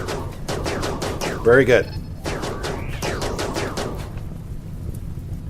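Gunfire in the video game RimWorld, a burst of shots about midway that rises loudly for a moment before falling back, heard under ongoing talk and game sounds.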